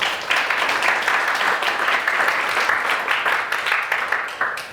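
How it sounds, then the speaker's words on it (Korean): Congregation at a church training session clapping to welcome someone forward, a brisk, moderately loud patter of many hands that holds steady for several seconds. "큰 박수로 맞이해 주시기"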